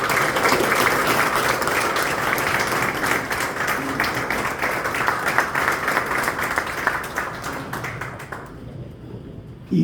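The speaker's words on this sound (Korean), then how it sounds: "여러분 큰 박수 부탁드리겠습니다." An audience at a Korean church press conference in a chapel gives steady, dense applause that holds loud for several seconds before tapering off abruptly near the end.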